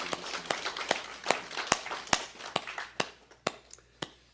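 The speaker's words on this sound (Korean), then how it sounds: "우리 하나님께 영광의 박수." Worshippers at a Korean church service clap in a steady, evenly spaced rhythm, each sharp clap ringing out distinctly at a moderate distance and gradually fading toward the end.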